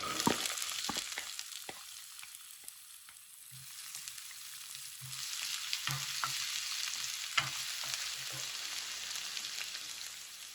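Shallots frying in sesame oil in a kadai: a dense, hissing sizzle that dips briefly then swells again, punctuated by occasional sharp spatula clicks and knocks, close and without speech.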